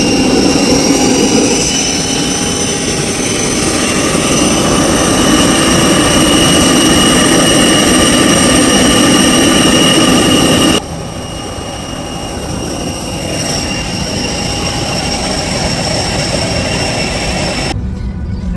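Jet engines at Krakow airport make a loud, steady roar with a high whine over it. The level drops suddenly about two-thirds of the way through and then holds lower. No one speaks.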